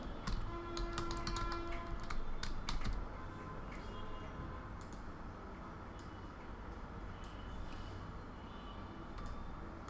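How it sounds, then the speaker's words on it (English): Fingers tapping on a computer keyboard during a live design class, a quick flurry of close clicks early on, then sparser taps over a low background hum. "we'll actually type everything in capitals"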